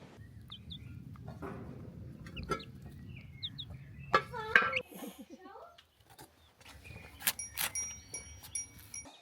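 Chickens clucking in a fenced yard for young chicks in a German village in Georgia, intermittent calls and chirps near and far, mixed with people talking.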